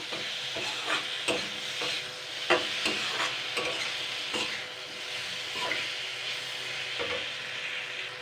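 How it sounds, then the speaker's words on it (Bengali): Spatula stirring green chillies and spices frying with fish head in oil for a curry, a steady sizzle broken by repeated scraping strokes, close and clear with no talk. "ভালো করে নাড়াচাড়া করে নেব। আর দিচ্ছি গোটা কয়েক কাঁচা লঙ্কা কুচানো ঝালের জন্য।"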